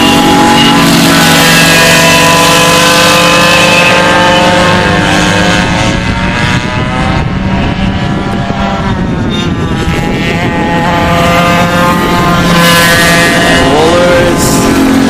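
Racing karts drone through an enduro race, with several engines buzzing loudly and continuously, their pitch rising and falling as the karts pass and trade positions.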